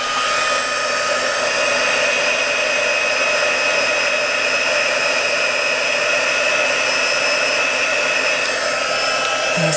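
A hair dryer runs steadily and loudly throughout, a constant close whine and rush of air with no pauses or talk, drying something on a homemade mink machine.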